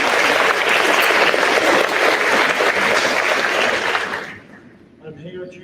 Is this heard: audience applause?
yes